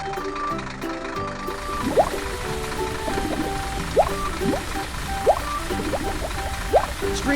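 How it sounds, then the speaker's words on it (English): Cartoon water sprayer spreading streams of water evenly over a planted farm field: a steady, busy watery hiss with bright splashy sweeps recurring every second or so, plus cartoon sound-effect tones, with no talking. "Streams of water spray out,"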